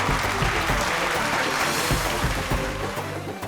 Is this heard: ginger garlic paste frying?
no